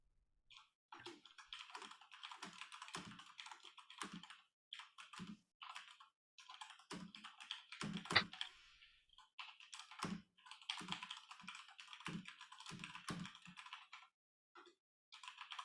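Rapid clattering keystrokes come in bursts with short pauses, close and fairly quiet, with no voices.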